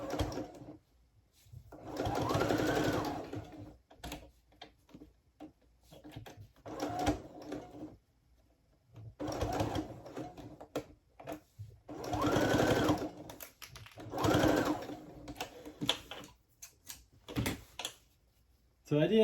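A sewing machine stitches plaid fabric for men's pants in quick rhythmic runs, several bursts of close mechanical chatter separated by pauses with faint handling sounds, no one talking over it.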